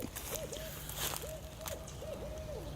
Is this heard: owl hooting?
yes